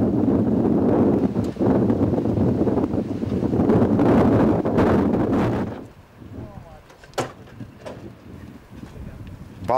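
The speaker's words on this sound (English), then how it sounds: "The glacial winds starting up like clockwork at around midday" Glacial wind gusts over the mountain camp at Batal in the Himalayas, roaring and buffeting loudly for several seconds before dropping away to a quieter backdrop with scattered knocks.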